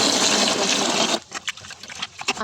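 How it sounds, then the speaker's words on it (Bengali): Rice being rinsed in water at home, a close gushing pour for about a second, then a sequence of small splashes and sloshes. "ভাত বসাবো তো ওই জন্য চালটা ধুয়ে নিচ্ছিলাম চালটা ধুয়ে"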